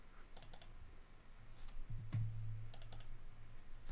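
Someone types quickly on a computer keyboard, sharp key clicks in uneven bursts over a steady low hum.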